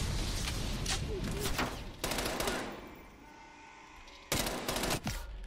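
Gunfire in the video game Call of Duty Black Ops Cold War, a loud sustained burst of rapid automatic shots that pauses midway, then resumes in another heavy burst over dense game ambience.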